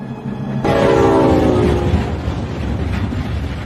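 A train rumbles loudly nearby, and a long horn blast sounds over the steady roll of the wheels.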